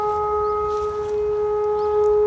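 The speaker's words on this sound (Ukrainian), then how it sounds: "Сирена включилася." Air-raid siren wailing outdoors over a city park, a sustained tonal drone holding steady at a distance, with faint birdsong in the background.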